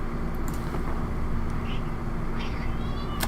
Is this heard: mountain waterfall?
no